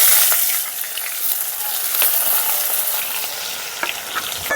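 Chopped onions fry in hot oil with fenugreek, dried chilli, bay leaf, whole cumin and garam masala in a village-style kitchen, giving a steady, loud, close sizzle with small crackles throughout.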